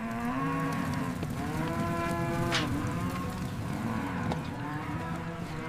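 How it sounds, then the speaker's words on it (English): Large Angus cattle moo in long, deep, drawn-out calls from a holding area, one low bellow running through most of the clip over a busy background rumble. "Large Angus bulls require control."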